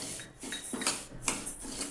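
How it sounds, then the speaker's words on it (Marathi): Flax seeds dry-roasting in a hot kadhai rustle and scrape as they are stirred, a faint, uneven shuffling with light metallic touches and no talking. "जवस मस्त खरपूस भाजायचे, जोपर्यंत तडतड उडत नाही तोपर्यंत हे जवस भाजून घ्यायचे"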